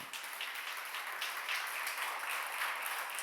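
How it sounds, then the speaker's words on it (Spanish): A church congregation claps together after a call to applaud the Lord, a dense steady wash of many hands that holds at an even level for a few seconds, with no voices over it. "Dele un aplauso al Señor"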